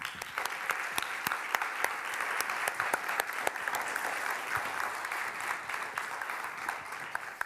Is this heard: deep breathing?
no